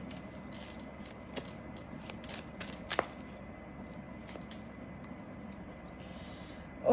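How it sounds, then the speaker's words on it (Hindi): A card drawn from a tarot deck gives a soft, close papery rustle with a few faint taps and flicks, quiet against a still room and no speech. "डेक एक कार्ड और ले लेते हैं"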